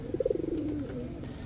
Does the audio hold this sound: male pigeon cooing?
yes